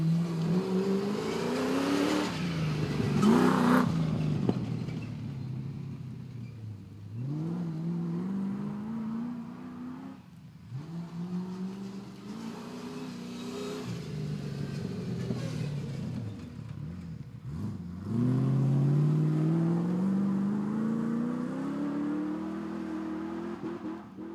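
An autograss race car on a dirt oval at Ebbw Vale, engine repeatedly revving up through the gears with rising whines, lifting off and accelerating again, fairly close and loud throughout with no talk.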